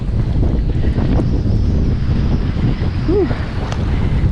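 Wind picks up at sea around a kayak out trout fishing, roaring and buffeting across the microphone in a steady broadband rush with faint water sounds beneath.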